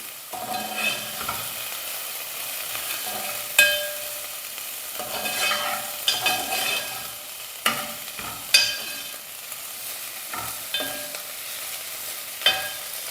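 Prawns frying in a little oil in a pan while being stirred, giving a steady close sizzle broken by repeated scraping clatters and taps of a spoon, with no talking.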